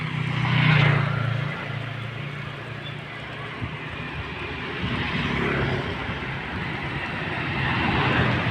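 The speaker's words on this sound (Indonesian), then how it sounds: "ada pesawat bro" An airplane passes overhead near a toll road construction site, a loud broad engine roar that swells early, dips, then builds again, heard outdoors with ambient rumble and no talk.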